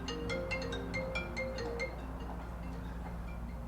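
A phone rings with a short, bright electronic melody of repeated chime-like tones, fairly faint and in a room, then fades out during a pause in an interview.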